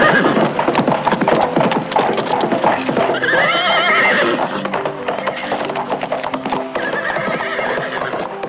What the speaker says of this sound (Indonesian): serombongan penunggang kuda berlari kencang menuju Lawang Gintung